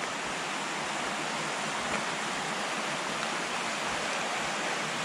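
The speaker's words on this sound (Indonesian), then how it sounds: "Ini teman-teman ya sungainya." River in a forest at Alas Ketonggo, Ngawi, rushing steadily with broad, even, loud water noise that holds without a break throughout, no voices.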